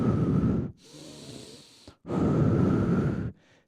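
Slow, deep breaths are drawn and released close to the mic, with two long, loud exhalations separated by a quieter inhale and a brief catch of breath.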